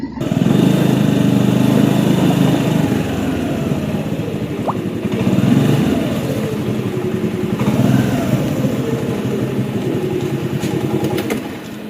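A Yamaha RX135 motorcycle engine is heard while riding, buzzing loudly and continuously with a few small rises and dips in revs, close and alone with no talk.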